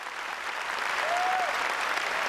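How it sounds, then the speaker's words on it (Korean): Local pastors at a 2001 Philippine revival meeting give warm, sustained applause mixed with cheering, a dense steady clatter of many hands filling the hall for a couple of seconds. "현지 목회자들은 뜨거운 박수와 환호로 맞았습니다"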